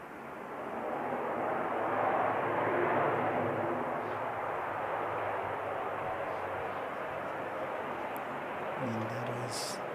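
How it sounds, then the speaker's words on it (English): An ATR 72-500 turboprop airliner flies past near an aero club, a broad steady roar swelling over the first few seconds and holding loud throughout, with a brief lower engine hum rising near the end. "that is the ATR 72500 from Chatham's"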